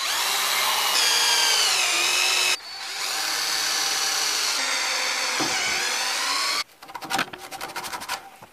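A power drill whines at high speed in two long bursts, then stutters in short revving pulses as it bites into wood.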